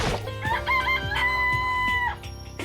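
A chicken in the video game Danganronpa: Trigger Happy Havoc crows and clucks in a close, clear burst, a rising cock-a-doodle call with a sustained tone, heard alone without talk.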